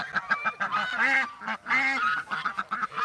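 A close flock of geese gives loud, harsh honks in quick succession, several long calls overlapping with shorter ones, steady and insistent throughout with no voices over them.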